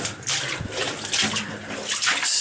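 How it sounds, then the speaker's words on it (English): Water running and splashing inside an old mine, with irregular gurgling, rushing bursts that rise and fall, loud and close, with no talking. "Water's making all kinds of weird noises."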